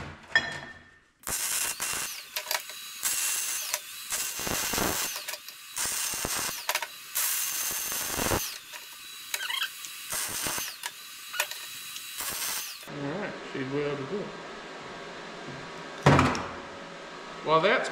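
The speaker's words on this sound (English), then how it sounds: "this nut's gonna be welded onto this shaft" Arc welding a nut onto a steel shaft for a mini excavator thumb, a steady crackling buzz in long bursts broken by short pauses, close and loud, with shifting tones near the end.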